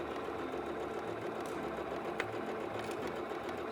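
A sewing machine stitches a curved seam on a fabric placemat, running steadily with a continuous mechanical whir and hum throughout, close and moderately loud.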